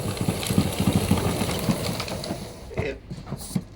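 A GTM street sweeping machine running with a steady mechanical hum, brush clatter and uneven rattling pulses close by. It eases toward the end, then a few short knocks follow.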